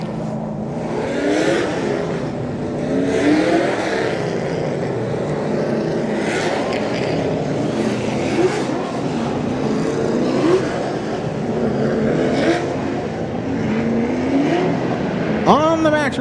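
Outlaw-class race cars roar through a heat race at Claremont Motorsports Park, engines rising and falling in repeated passes with a steady crowd-and-track wash behind a voice talking over the action.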